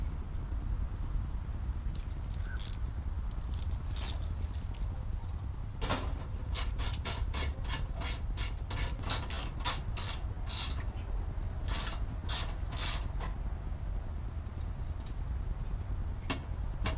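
A ratchet snugs up bolts during an oil change on a Nissan Xterra, with scattered bursts of faint clicking and rasping over a low, steady background hum.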